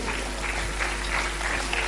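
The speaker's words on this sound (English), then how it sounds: "Can you have a round of applause for them, please?" An audience claps for a team placed eighth at a school fair award ceremony, a steady wash of applause lasting about two seconds with no talk over it.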